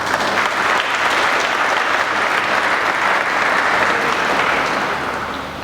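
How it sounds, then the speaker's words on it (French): A large audience claps steadily and loudly throughout, a dense wash of applause at a memorial commemoration for a national hero, former president, fading slightly at the end. "Veuillez l'applaudir."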